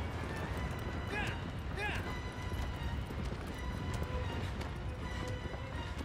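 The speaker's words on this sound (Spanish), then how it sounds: "¡Corre, corre, caballo, corre!" Galloping horse in the video game Shadow of the Colossus, a steady clip-clop of hooves over a noisy game soundscape, with a few whinny-like cries early on and someone talking over it.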